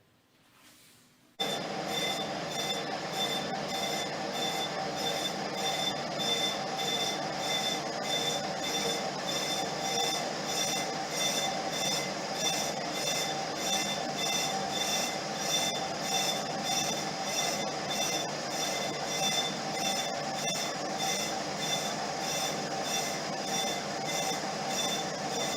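A lathe tool takes a continuous cut in the groove of a wobbly lathe pulley, making a loud, steady, high-pitched ringing screech. The sound starts abruptly and holds unbroken for over twenty seconds, with a faint rhythmic pulse.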